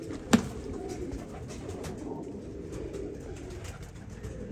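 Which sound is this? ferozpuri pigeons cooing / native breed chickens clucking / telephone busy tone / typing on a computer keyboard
ferozpuri pigeons cooing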